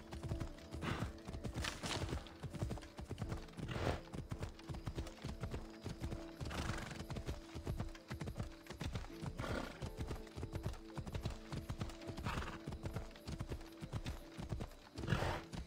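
Horse hooves clip-clop in a steady galloping rhythm with occasional snorts and whinnies while riding in the video game Assassin's Creed Odyssey, loud and continuous over a droning in-game background.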